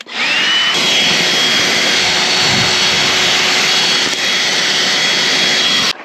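A handheld dust buster vacuum sampling bedrock at an old gold mine, whining loud and close in a steady, continuous roar for the full length, with slight pitch shifts as it is scraped and pulled across the rock.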